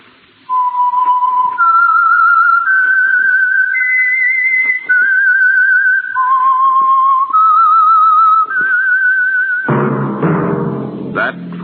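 Someone whistles a slow, wavering melody of sustained notes, clear and alone, before a burst of music or voices cuts in at the end.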